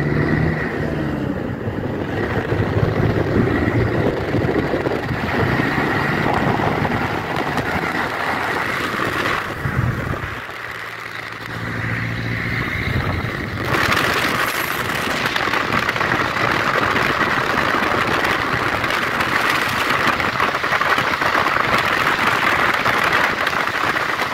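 A 1949 Chevrolet 3100 pickup cruises in fourth gear at about 100 km/h, its engine droning steadily and loudly for the whole stretch, with road and wind roar blended in and a brief dip partway through.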